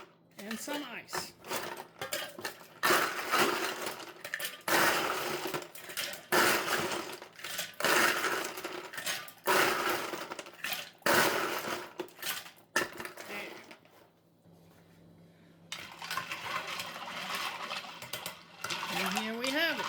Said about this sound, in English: And some ice.